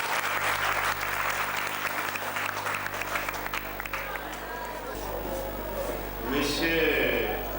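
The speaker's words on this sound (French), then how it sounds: "d'applaudir très fort" Applause from an audience at a school ceremony in Porto-Novo, steady dense clapping throughout, with crowd murmur and some cheering rising toward the end.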